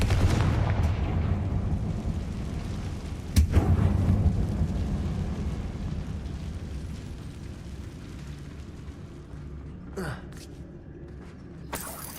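A Confringo blast spell goes off in Hogwarts Legacy, a booming explosive burst with a rumbling tail, followed by a second sharp hit and a few fainter crackling impacts later on.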